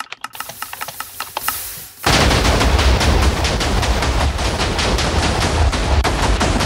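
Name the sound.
Liberty Prime's right-hand gun firing in a video game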